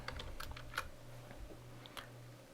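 Rapid computer keyboard typing, a quick run of close, crisp key taps entering a new group name in Microsoft Excel, heard alone over a low steady hum.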